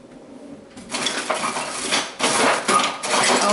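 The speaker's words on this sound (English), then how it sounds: "Oh, here we go, trying to find the spoons again." Someone rummages through a drawer of metal cutlery hunting for spoons, making a loose jangling clatter that starts after a brief quiet moment and carries on in uneven bursts close by.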